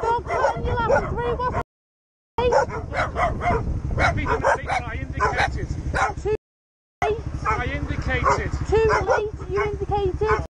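Several dogs bark and yelp at a biker on a street, sharp repeated barks and whimpers that are loud and close, mixed with excited human voices and broken by two short silent gaps.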